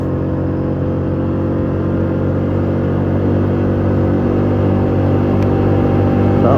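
A Polaris Magnum 330 ATV engine held at full throttle, a loud, steady, close-up rumbling drone with a dense low-pitched tone that holds without a break or change.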